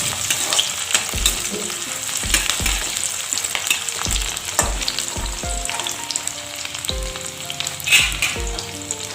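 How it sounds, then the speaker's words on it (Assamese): Chopped onions sizzle in hot mustard oil, a steady loud crackle broken by repeated sharp clicks and scrapes of a spoon stirring the pan, with no talking. "মই ইয়াত কাটি ৰখা পিঁয়াজখিনি দি দিছোঁ, আৰু পিঁয়াজখিনি অলপ ৰঙচুৱা হোৱালৈকে মই ভাজি থাকিম।"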